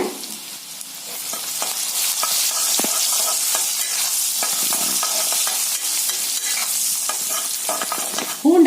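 Garlic with asafoetida and turmeric frying in oil, a loud, dense sizzle that swells after the first second and holds steady, with faint scraping stirs through it.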